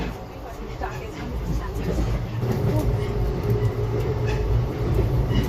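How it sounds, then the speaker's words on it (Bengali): A passenger train runs steadily with a continuous low rumble and rolling noise from inside the carriage, and people talk over it now and then. "ট্রেন ছেড়ে দিয়েছে আমাদের"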